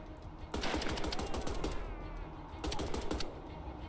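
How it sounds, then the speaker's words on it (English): Enemy gunfire in the shooter game Wolfenstein, rendered as a dense, sustained rattle of rapid shots in two loud bursts with a short lull between them, and no speech over it. "Why are those guys just now shooting at me?"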